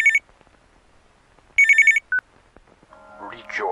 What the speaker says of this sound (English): let's answer this phone.